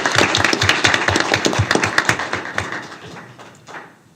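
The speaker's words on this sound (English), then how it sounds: "let's give a round of applause for Rick Harris for all the years" Applause from the audience at a school board meeting, a modest group clapping with distinct, individual claps audible, close and lively before thinning out and stopping.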